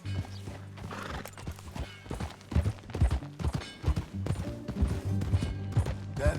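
Horse hooves clip-clopping at a steady ride in the Western video game Red Dead Redemption 2, with irregular close hoofbeats over a low hum of ambient game music.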